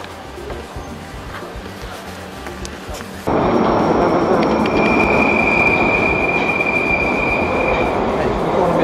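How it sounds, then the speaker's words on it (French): Metro train passing close by, a sudden jump into a loud rushing roar with steady rumbling wheels and a sustained high-pitched squeal, following quieter background noise. "Allez, encore le métro."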